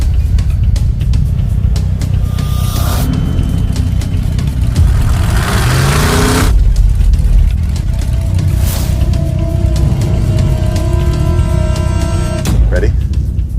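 Dump truck engine revving loudly out in the desert, a sustained deep roar that rises in pitch, with rushing wind and voices over it.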